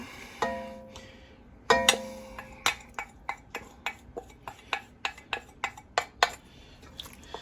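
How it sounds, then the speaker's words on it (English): A spoon stirs mashed black beans loosened with reserved cooking liquid in a pot, making a steady run of about fifteen sharp metallic clinks and scrapes against the pot, close and fairly loud. "Give this a little stir."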